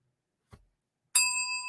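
A single bright bell-style sound effect rings out with a sharp strike and a sustained shimmering tone, preceded by a faint soft knock.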